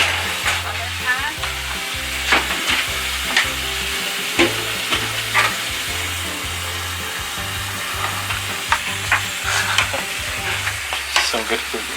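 Food stirred and mixed in a pan, a close rhythmic scraping and clatter of utensil on metal repeating over a constant frying sizzle, with sharper knocks now and then.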